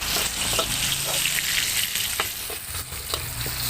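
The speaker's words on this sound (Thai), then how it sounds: "ขั้นตอนแรกเราก็ใส่กระเทียมกับพริกที่เราโขลกยาวๆไปก่อนนะคะ" Crushed garlic and pounded chili frying in a pan for stir-fried kale with crispy pork, a loud continuous sizzle close by with a few scraping stirs and no talking.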